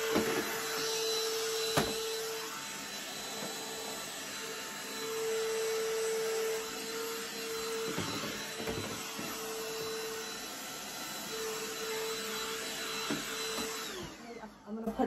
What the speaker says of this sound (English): I'm just gonna vacuum with the small vacuum inside here.